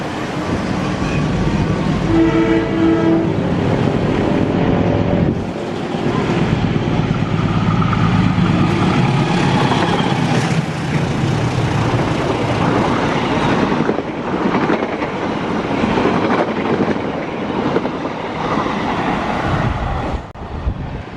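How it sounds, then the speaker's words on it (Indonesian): Blambangan Ekspres 146-147 passenger train runs through Klari station, a loud continuous rumble and clatter of wheels on rails sustained for about twenty seconds, with a brief squeal early on. "kereta api Belambangan Ekspres 146-147"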